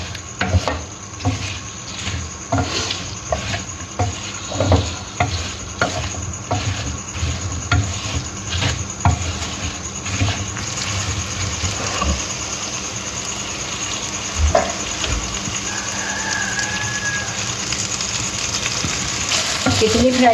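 Fresh-picked okra frying in a pan gives off a continuous crackling sizzle, broken by rhythmic scraping and tapping as a spoon stirs it, close and fairly loud throughout.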